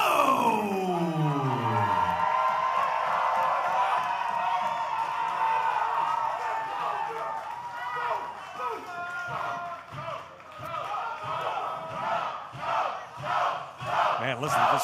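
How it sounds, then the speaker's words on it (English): A live wrestling crowd roars and cheers, opening with a loud sweeping yell that falls away into a sustained, rumbling mass of cheering, then rhythmic surges of chanting toward the end. "Man, listen to this crowd."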